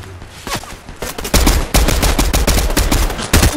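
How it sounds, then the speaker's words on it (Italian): Rapid gunfire in the Fortnite video game crackles in dense, loud bursts and rattling volleys, growing heavier midway and continuing to the end without any talk. "mi stanno sparando"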